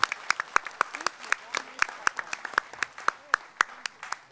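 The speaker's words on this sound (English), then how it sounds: "Yeah, you can applaud, please." Seated audience at a delegate assembly clapping, a modest scattering of distinct individual claps in an uneven rhythm, close and fairly sparse, with voices murmuring underneath.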